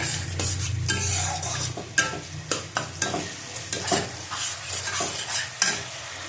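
Khichuri with about two spoons of ghee and fried masala being stir-fried in a pan: repeated close spatula scrapes and knocks over a steady, hissing sizzle, with no voices.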